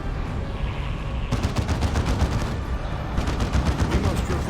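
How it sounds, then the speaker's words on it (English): Scout shotguns firing in the Dawn of War 2 Elite Mod strategy game, a dense run of rapid overlapping blasts amid continuous battle noise, loud and close, with a brief lull before the volleys pick up again. "Good knockback there by the Scout shotguns."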